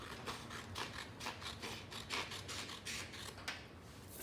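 Repeated crisp snips of scissors cutting through origami paper, close up, in a quick uneven rhythm with no talking.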